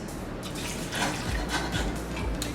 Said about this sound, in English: want to add some water to it.